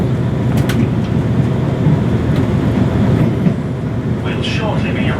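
A train runs into Leeds past a platform, a loud continuous rumble and rattle of wheels on rails with scattered squeals and brake hiss toward the end, a voice faintly audible over it.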